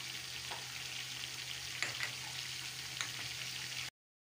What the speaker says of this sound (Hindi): सूखा जो मसाला है ना, थोड़ा सा घी में फ्राई करके इसकी अलग से खुशबू आती है